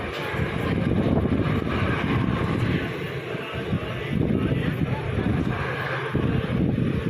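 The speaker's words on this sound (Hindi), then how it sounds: "अब आप इंजन की, लोकोमोटिव की आवाज़ देखो, वो चेंज होती जाएगी यहाँ से" A heavy, steady rumble of a locomotive hauling an express train up a hill between Pune and Kolhapur, loud and continuous, with wind buffeting the microphone throughout.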